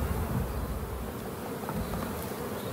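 Honeybees buzzing densely during a shook swarm at an apiary, a continuous close hum of many insects with no talking.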